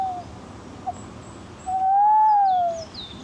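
A person imitates a tawny owl's hoot, a single long, loud, wavering whistled note that rises and falls, preceded by a brief faint call, alone over a quiet night background.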